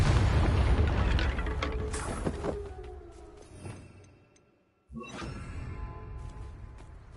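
A Confringo explosive spell blast in the Hogwarts Legacy video game, with a heavy boom and rumbling decay that fades to silence before a second sharp burst erupts, loud and without talk.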